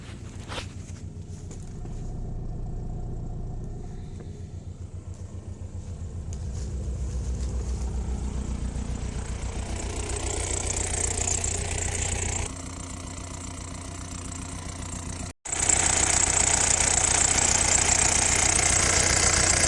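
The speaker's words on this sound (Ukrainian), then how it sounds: "Зараз я вставлю відео, як працює цей двигун на автомобілі." An Audi 100 with a 1.9 TDI diesel engine rated at 110 horsepower runs steadily with a low, rumbling clatter. Its level holds fairly constant, with a brief dropout near the end before the running sound resumes slightly brighter.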